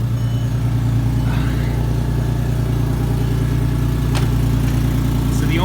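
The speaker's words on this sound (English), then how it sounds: "So this is cold. I haven't started it in a little bit here. You might be hearing already the sound of the exhaust." Volkswagen R32 MKIV idling soon after a cold start, its exhaust giving a loud, steady low rumble up close with an even pulsing throb throughout and a faint click partway through.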